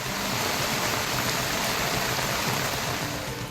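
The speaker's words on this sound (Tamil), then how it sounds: "பெய்த கனமழையால் சாலைகளில் மழைநீர் பெருக்கெடுத்து ஓடியது" After heavy rain in Ulundurpettai, Kallakurichi district, rainwater floods along the roads in a constant rushing wash, loud and even from start to finish.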